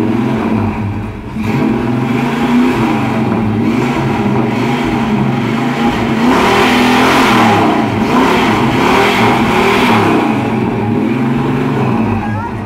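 An American car engine revs with a deep, throaty exhaust rumble, loud and close, swelling and settling in steady waves throughout, at a US car meet.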